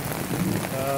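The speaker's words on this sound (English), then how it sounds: "as the rain is subsiding, we still have choked gutters on that side" Rain falls on a residential street with choked gutters and runoff pooling, a steady close wash of drops and water over about a second, with no talking.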